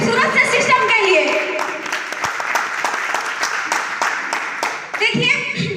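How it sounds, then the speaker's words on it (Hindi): An audience breaks into sustained, loud applause at a business plan presentation event, with many hands clapping together and a voice calling out over the clapping near the end. "एक बार जबरदस्त ताली बजाइए इस खूबसूरत से सिस्टम के लिए"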